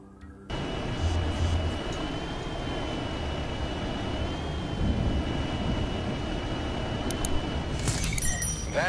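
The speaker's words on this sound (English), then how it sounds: "That's a surveillance drone." A surveillance drone in the video game Gotham Knights hums steadily overhead, a continuous droning whir with a few faint metallic clinks near the end.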